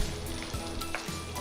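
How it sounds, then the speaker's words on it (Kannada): Mushrooms, carrots and vegetables crackle in a hot pan during a quick stir-fry, a steady close sizzle with small scraping stirs, no voices. "ಇದನ್ನು ಕ್ವಿಕ್ ಸ್ಟರ್ ಫ್ರೈ."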